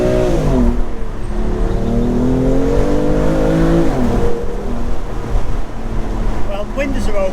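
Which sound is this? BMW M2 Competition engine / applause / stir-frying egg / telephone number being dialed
BMW M2 Competition engine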